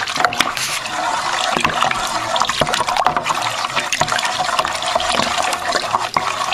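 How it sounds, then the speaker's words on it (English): Bentonite being stirred into wine must for a Riesling kit makes a continuous close sloshing, trickling liquid swirl with small irregular splashes throughout, steady and fairly loud, with no speech. "I'm stirring in the bentonite just like I did with the other kit."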